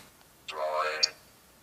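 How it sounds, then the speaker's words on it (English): A brief synthetic notification tone from an HTC Droid Incredible 4G LTE phone, a single electronic chime of about half a second, clear and alone against near silence. "of course you do get that Droid notification tone"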